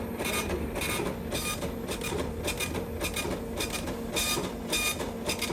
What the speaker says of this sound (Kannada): ಉಂಗುರ ರಿಪೋರ್ಟ್ ಈಗ ಪ್ರಿಂಟ್ ಆಗ್ತಾ ಉಂಟು